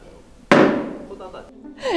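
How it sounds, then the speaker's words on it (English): Workers hammer a large wooden kioke soy sauce barrel at a 300-year-old Japanese brewery: one sharp, very loud strike rings out and decays over about a second, and a voice begins speaking at the end. "I felt like I was going to go deaf just listening to them hammer away at this Kioke."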